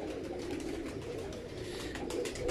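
A pigeon coos on a rooftop loft among others, giving soft, rolling, repeated coos at close range without any talking.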